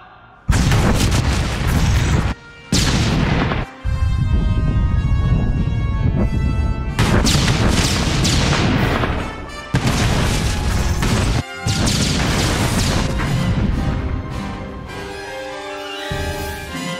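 Heavy blaster fire and explosions from squads opening fire in Star Wars: The Old Republic during the Tatooine evacuation quest, a dense, loud barrage of booms and crashes with brief lulls, continuing for about seventeen seconds with no talking.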